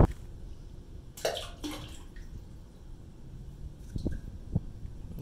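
Water running and dripping inside a sprinkler system valve box during a Rain Bird controller install, faint gurgles and splashes with a couple of sharper splashy bursts early on and small drips near the end.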